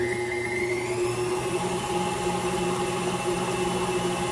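An electric mixer runs steadily, blending sour cream into red velvet cheesecake brownie batter, a continuous close motor whir with a constant hum and no pauses.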